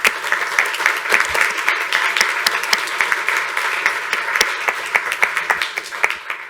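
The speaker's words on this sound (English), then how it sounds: "Let's give him one more round of applause." At a township board of commissioners meeting, the audience gives an honoree a full round of applause, continuous dense clapping with crisp claps popping out near the end.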